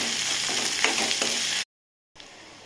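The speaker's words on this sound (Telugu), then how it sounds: "నేను ఆయిల్లోనే మసాలాలోనే వేపుతున్నాను" Masala frying in oil in a pan, a dense continuous sizzle with stirring scrapes, then a brief cut to silence before the sizzle returns.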